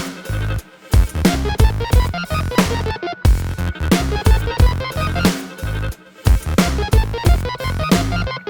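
Music production beat deliberately built with off-time dragged and rushed elements, loud punchy kicks and snappy percussion in a repeating groove that feels slightly uneven, with brief drops in the pattern between bars.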